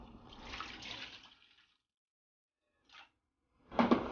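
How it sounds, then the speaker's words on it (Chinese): Pig intestines rinsed under running water, a close gush of water for about a second and a half, then silence, a brief splash and a final burst of water. "接着再用清水冲洗干净。"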